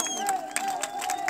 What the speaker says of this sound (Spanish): Ustedes mismos, ayúdenme con el aplauso para ustedes.